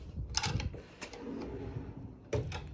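A large drawer of a six-drawer dresser in a room at Disney's Grand Californian Hotel & Spa slides and knocks in a few quiet, close wooden bumps and rattles, spaced over a couple of seconds.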